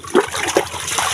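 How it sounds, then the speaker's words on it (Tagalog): Heavy typhoon rain pours down in a dense, rushing wash of water, with a couple of sharper splashing bursts over the steady hiss during a short stretch. "kusog ulan."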